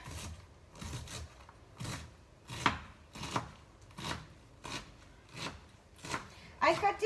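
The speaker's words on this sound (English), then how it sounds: "I'm going to cut it" A knife chops washed vegetables on a board for Maggi mee goreng, giving about nine to ten sharp, evenly spaced knocks, fairly close and moderately loud, with a little faint background noise between strokes.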